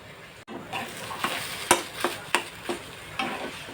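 Potatoes are stirred through a cooked spice paste in a frying pan, with a soft steady sizzle and a series of distinct scraping, tapping strokes of the spoon against the pan at irregular intervals.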